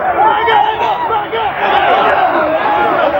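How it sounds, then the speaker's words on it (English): A football stadium crowd at a 1999 college game between the Arizona Wildcats and the WSU Cougars, chanting loudly and steadily as a dense massed roar of many voices, close and sustained. "The crowd is chanting something unfavorable"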